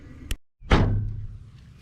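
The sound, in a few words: Toyota Corolla trunk lid or hood closing with hollow thunk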